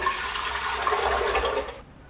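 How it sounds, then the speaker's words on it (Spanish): Two litres of water pouring into a pressure cooker for lentil soup, a steady broadband rush of liquid filling the pot, close and fairly loud, continuing without talk until it cuts off near the end. "vamos a agregar 2 litros de agua en la olla a presión"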